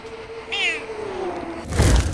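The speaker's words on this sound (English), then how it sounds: "this is a cat at Christmas" A cat at Christmas lets out a single short meow, close and moderately loud, followed by a brief burst of noise.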